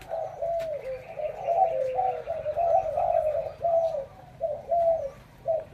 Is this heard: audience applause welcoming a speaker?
no